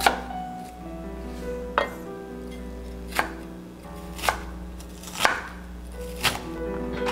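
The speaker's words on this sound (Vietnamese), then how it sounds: "mình xắt ra nó nhỏ hơn hạt lựu một chút." A knife finely chops white onion on a cutting board for a Vietnamese stir-fried tofu dish, with six sharp, evenly spaced chops over a low steady background hum.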